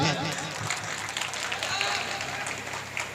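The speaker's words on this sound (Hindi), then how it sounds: "बजाओ ताली।" Audience at an outdoor All India Mushaira poetry gathering in Ballia clapping in a steady, dense wash, with a voice faintly audible through it.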